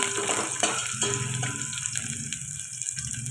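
Onions and green chillies hitting hot oil in an Andhra-style tempering, giving a steady, close sizzle and crackle that continues unbroken with no voices.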